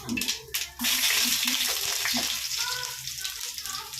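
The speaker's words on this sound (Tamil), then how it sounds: "இது பாருப்பா கடுகு பருப்பு போடுறேன். பூண்டு போடுறேன்ப்பா." Mustard seeds, dal and garlic hit hot oil with a sudden loud hiss that settles into a steady close sizzle, with faint stirring and a brief murmur of voice early on.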